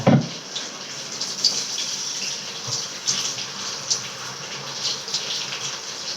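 Water gushes and splashes steadily as it drains off through a strainer into a sink while cooking chicken biryani with raw rice, with a brief clatter at the start.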